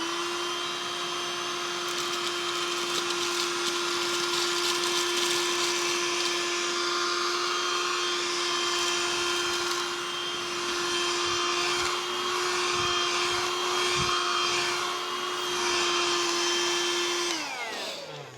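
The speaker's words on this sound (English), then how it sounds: "Next I'm going to try it with the motor on." A Hoover Jovis+ handheld vacuum runs with its motor on, giving a loud, steady whine with a strong sustained tone that holds for most of the clip, then cuts off near the end.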